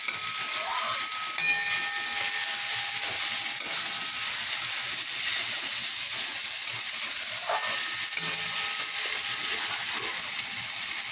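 Lentils fry in a pan for Bengali torka, making a continuous loud sizzling hiss that holds steady throughout, with faint clinks and a few brief tonal squeaks and no talk.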